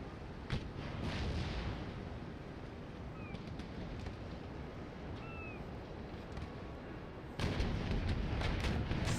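Naval cannon volleys and small arms fire crackle through a ship battle in Empire: Total War, a dense rumbling roar with scattered sharp reports that swells louder near the end.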